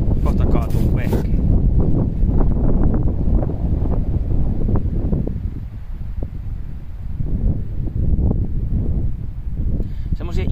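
Strong outdoor wind buffets the microphone in loud, continuous low gusts, with people talking over it.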